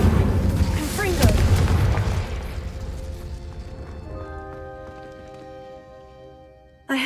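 A Confringo fire spell blasts in Hogwarts Legacy, a loud booming burst that rolls off slowly, with a faint musical tone rising behind it before a sharp jolt at the very end.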